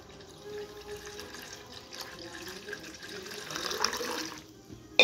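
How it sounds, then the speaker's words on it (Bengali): Water is poured into a bowl of mashed tamarind, a soft trickling and splashing that builds slightly toward the end before a brief clatter, fairly quiet and close with no speech. "আমি এই তেঁতুলটার মধ্যে এবার জল দিয়ে দেবো।"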